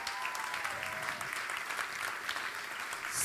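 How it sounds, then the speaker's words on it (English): Audience applause at a School On Wheels charity gala at Patriot Place, a steady dense wash of many hands clapping throughout, moderately distant and even, with no talking over it. "A round of applause for Mr. Steve Green."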